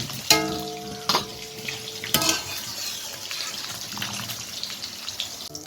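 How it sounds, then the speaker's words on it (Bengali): Pieces of katla fish fry in hot oil, a steady close sizzle punctuated by a few sharp knocks of a utensil against the pan. "এই যে মাছ ভাজা হয়ে গেছে"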